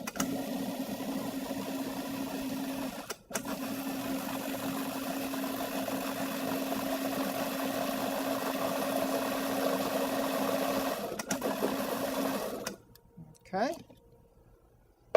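Steady whirring motor of a blender pureeing a fruit and vegetable soup, running continuously with two short breaks before cutting off at the end, while a voice talks over it.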